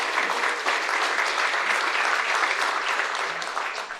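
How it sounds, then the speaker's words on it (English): Luncheon audience giving a round of applause for event sponsors, full steady clapping from a sizable crowd that tapers slightly near the end. "Let's give them a round of applause."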